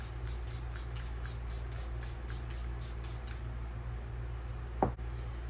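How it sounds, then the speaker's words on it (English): Rapid rhythmic bursts of setting spray from an airbrush hiss for about three seconds, then a single sharp click, all quiet and close over a low hum. "First I'm going to spray my whole face with the airbrush"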